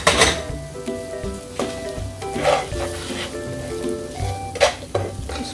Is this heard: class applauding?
no